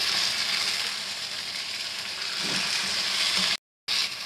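Chicken pieces fry in a pan with browned onions, giving a steady close sizzle that runs throughout with a brief cut near the end.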